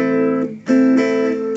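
A guitar chord strummed in a reggae style with the fretting hand held down rings out sustained, with a brief dip before a second strum continues ringing, close and loud with no talk.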